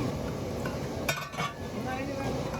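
Metal utensil scraping and clinking in a large pot of chicken biryani being mixed with yellow zarda colouring, a brief cluster of clinks over steady background hiss, with faint talk.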